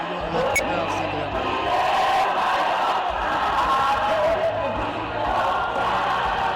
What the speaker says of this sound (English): We're gonna let the crowd sing it